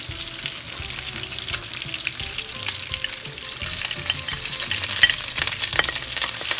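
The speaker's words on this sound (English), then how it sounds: "now I'm going to stir fry the garlic, my garlic onions and tomatoes" Garlic, onions and tomatoes stir-fried in butter with chicken, a continuous close sizzle with clattering utensil scrapes and stirring that grows louder and brighter partway through, no talking.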